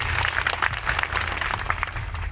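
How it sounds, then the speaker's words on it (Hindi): A short burst of dense audience clapping at a memorial tribute gathering, loud and sustained across about two seconds. "ताली बजाओ एक बार जोरदार"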